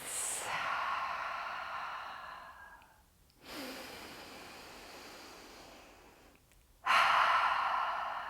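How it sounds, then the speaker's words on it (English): Slow deep breaths during a Halloween-themed yoga session, two long airy inhales and exhales separated by brief pauses, close and soft with no talking. "Taking a couple of deep breaths."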